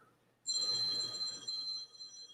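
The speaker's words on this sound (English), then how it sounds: "My phone is ringing?" A phone rings somewhere at the back of a room, its bright electronic tones starting abruptly and sustaining for a couple of seconds, fairly faint and distant.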